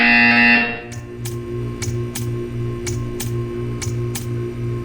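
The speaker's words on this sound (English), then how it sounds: "You will hear a buzzer." A steady electronic buzzing tone with short ticking pulses repeating about every half second, loud at first and then settling into a regular pattern.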